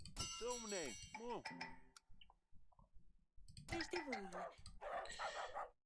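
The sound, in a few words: dog barking in the video game Yes, Your Grace: Snowfall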